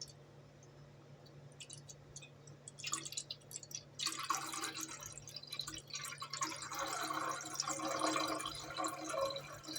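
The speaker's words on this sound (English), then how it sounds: "I'm going to pour in the whole bottle this time" Water gurgles and splashes as it is poured from a bottle, faint at first and then a steadier, louder glugging stream close by.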